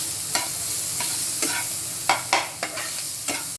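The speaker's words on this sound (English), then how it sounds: "Now mix it well." Garlic and ginger stirred and frying in a pan for Japanese fried rice, with a steady sizzle under a series of sharp spatula scrapes and knocks at irregular intervals, close and clear.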